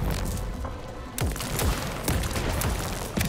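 Electric shock power fired at an enemy in the video game Atomic Heart, a series of sharp crackling zaps and booming impacts in rapid succession over a dense, loud game soundscape.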